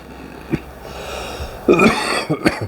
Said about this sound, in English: Wait a moment, I'm about to cough